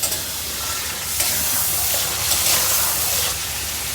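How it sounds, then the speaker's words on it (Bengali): Ground mustard and chili paste frying hard in hot oil with fish, a loud, steady broadband sizzle and hiss that carries on without a break, with faint scrapes of stirring near the middle and the end. "এখন ভালো করে কষাই নিতে হবে যেন মশলার গন্ধ না থাকে"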